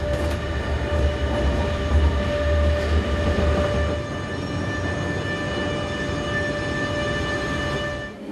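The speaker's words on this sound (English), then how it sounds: "As the train headed north across the flatlands towards Kiel" A train runs north across flat country toward Kiel, heard from inside with a steady rolling rumble of wheels on rails and sustained tonal hums, which thin out slightly partway through.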